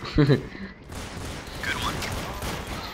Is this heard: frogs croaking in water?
no